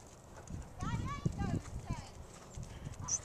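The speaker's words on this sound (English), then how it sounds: "she's going to canter out of her short trot now" A horse's hooves strike the ground in a rhythmic canter in a dressage arena, up close and moderately loud, while a person speaks over the footfalls.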